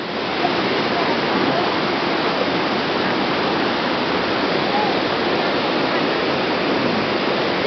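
Steady, dense roar of a waterfall in Hala-Bala forest, Thailand, loud and close, continuous broadband rush of falling water with no pauses.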